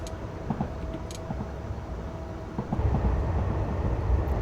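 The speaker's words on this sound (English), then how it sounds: "I love how also the train sounds change when you're going over the bridge." A JR West 103 Series electric train rolling onto a bridge on the Wakayama and Sakurai Lines in Train Sim Classic, a steady low rumble with faint clicks that swells into a heavier, hollow roar partway through.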